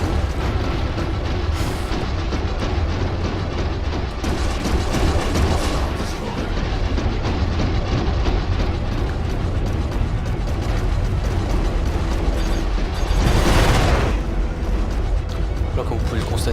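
Dense, continuous mechanical roar with booming, rattling blasts from a spaceship's front cannon in the game Star Citizen, loud and steady throughout, with no clear gaps.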